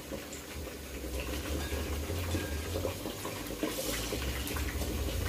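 Ice water used to shock vegetables pours out of a cooking pot, a continuous splashing, gurgling stream with a low rumble, close and moderate in level, with no speech.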